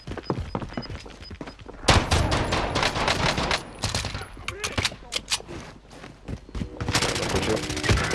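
Pistol gunfire from the video game Call of Duty: Modern Warfare, sharp loud shots in quick irregular bursts with heavier thumps between, while a player talks over the action.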